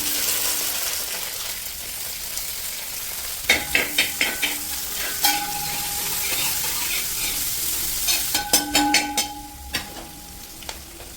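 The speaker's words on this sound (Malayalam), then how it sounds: "ഇഞ്ചിയും വെളുത്തുള്ളി ഇട്ട് കൃത്യം 1 മിനിറ്റ് കഴിയുമ്പോൾ നമുക്ക് ഇതിനകത്തേക്ക് സവാള ചേർത്ത് കൊടുക്കാം" Chopped onions go into a pan of ginger and garlic frying in oil. A steady sizzle runs underneath while a spatula scrapes and taps the pan in quick clustered bursts, close and fairly loud.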